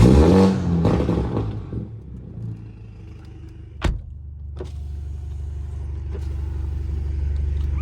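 A BMW 330i fitted with an aftermarket stage downpipe roars loudly as it accelerates, then the exhaust tone falls away with a sharp crackle and settles into a low, steady rumble while driving.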